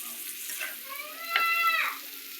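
Fish frying in a pan as the pieces are flipped, a continuous sizzle with a sharp scrape and a louder burst of crackling partway through, with no one talking.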